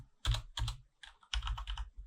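Someone types on a computer keyboard at a desk, entering a package name as a few quick, close bursts of key clicks separated by short pauses.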